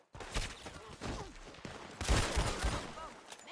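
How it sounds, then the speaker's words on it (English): Gunfire rattles in Red Dead Redemption 2 as a fusillade of dense, overlapping shots builds over a few seconds, loudest toward the end, mixed with shouting voices. "Get him! Go on and get the bastard! Shoot that one now!"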